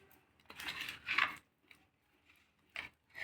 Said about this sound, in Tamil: இப்போ வந்து நம்ம இதை நல்லா மிக்ஸ் பண்ணிக்க போகிறோம்